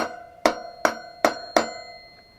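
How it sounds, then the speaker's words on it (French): Four evenly spaced hammer blows ring out on a motorcycle chain being fixed, each a sharp metallic strike with a brief ringing decay, close and clear with no talk. "Les 3 coups de marteau pour essayer"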